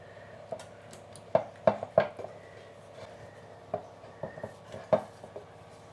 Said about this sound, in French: je vais tout simplement bien beurrer le moule